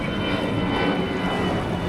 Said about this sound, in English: There's a jet